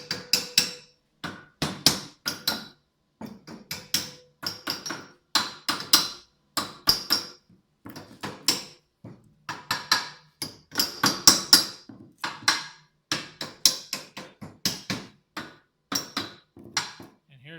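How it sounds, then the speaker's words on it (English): A hammer strikes burrs on a wrought-iron-style welded steel fence, making a long run of sharp metallic taps and clanks. They come in uneven bursts, some quick and clustered, others spaced apart, and all sound close and fairly crisp. "So what I do is get a hammer and I'll hit all"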